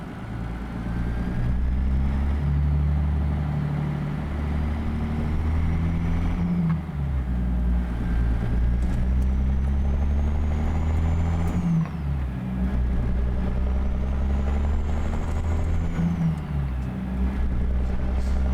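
A Peterbilt 389 truck in American Truck Simulator downshifting: a loud, steady engine drone whose pitch drops and climbs again at each gear change, with no talking.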